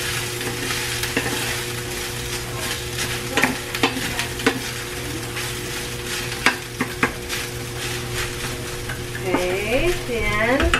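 Ingredients sautéing in a pan for baked cheesy macaroni, a steady close sizzle with scattered clinks of a utensil stirring against the pan and a steady background hum.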